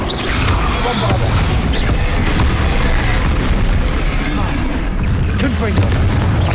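Explosions from the Bombarda blasting spell in the Hogwarts Legacy video game: dense, loud booming blasts with crashing debris and deep rumble running throughout, with voices heard during the fight.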